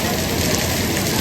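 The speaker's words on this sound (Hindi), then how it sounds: "बहुत ज़बरदस्त बारिश है भाई" Heavy rain pours down hard outdoors, a dense, loud, continuous hiss and patter on surfaces with water running everywhere, steady from start to end with no break.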